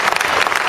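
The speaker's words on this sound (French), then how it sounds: "Je voudrais demander les applaudissements encore une fois très très fort." Loud, dense applause from a crowd fills a Team Europcar 2013 cycling team presentation, a steady wash of many hands clapping throughout this short moment.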